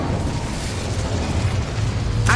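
The Incendio fire spell is cast in the video game Hogwarts Legacy, giving a loud, sustained roaring blast of flame that rumbles throughout and ends with a sharp whoosh.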